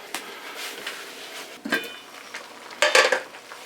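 Metal cookware clanks and scrapes close by, a few sharp knocks of a lid settling onto a pot of catfish in coconut milk over low heat, with a faint sizzle underneath.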